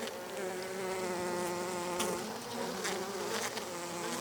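Honeybees swarm around a bucket hive in an apiary, their dense buzzing droning continuously and close by, with varying pitch as individual insects pass near.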